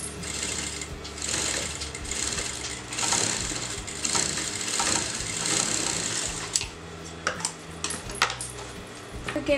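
A sewing machine stitches around the neckline of a kameez or kurti, running steadily and close with a light metallic rattle, then breaking into shorter stop-start bursts near the end.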